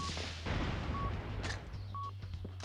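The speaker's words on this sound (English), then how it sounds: "Let's finish him off with this grenade launcher here." Grenade launcher blasts in the PS1 game The World is Not Enough, heard as dense, booming explosive bursts layered with game sound effects and short beeping tones, fairly faint overall, with no talking.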